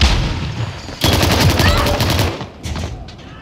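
Rapid automatic gunfire bursts in Warzone on the Verdansk map, loud and close, with a dense rattling volley starting a second in and sharper shots trailing off near the end. A voice speaks briefly.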